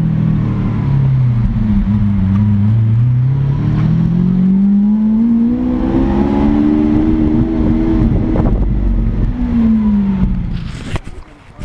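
A Lamborghini Aventador convertible drives with the top down, its engine droning and swelling, pitch rising and falling with the revs, heard loud and up close with open-air wind noise.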